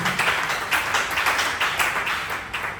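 A church congregation at a Tuesday healing service claps together in a steady, rapid rhythm, a dense roomful of hands applauding without a break.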